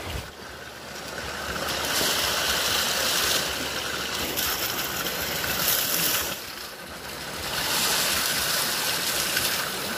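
River water rushes steadily nearby at a swimming spot, a broad continuous wash that swells and eases in waves over ten seconds, with no talk.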